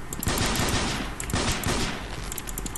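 Rapid Colt 1873 revolver shots fired in the shooter game Sheng Si Ju Ji, a dense run of overlapping gunfire with sharp repeated reports filling the clip, loud and close with no talking.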